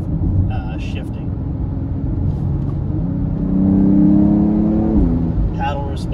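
A car accelerates with a steady rumbling engine whose tone rises through stepped gear changes, swelling louder in the middle before easing off, with a voice briefly heard at the start and end.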